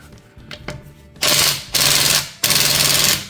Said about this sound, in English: this one here, I was able to just go to auto and be able to take out the lug nuts, loosen it up